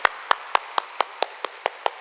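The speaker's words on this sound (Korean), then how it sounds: "하나님께 박수. 하나님께." Nine sharp, evenly spaced hand claps from a church congregation, ringing out alone in a steady rhythm at a brisk pace.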